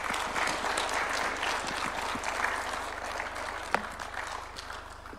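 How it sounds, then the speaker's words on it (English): Sustained audience applause fills a hall after a speech by Kenya's President at a book launch, dense steady clapping that slowly tapers, with a few louder claps standing out near the end. "Another round of applause for His Excellency."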